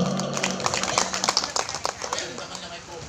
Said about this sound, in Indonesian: Mana tepuk tangannya untuk Bapak Bupati Rukan dulu bersama Ibu.